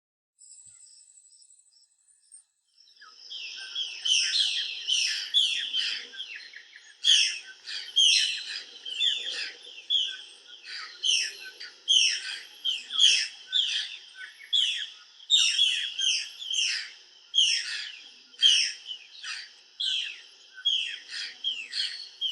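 Dense Amazon rainforest birdsong: a steady stream of bright chirps, tweets and calls from several birds, starting after a near-silent moment and continuing thickly throughout at moderate loudness, with no voices.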